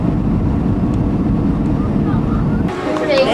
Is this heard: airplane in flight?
yes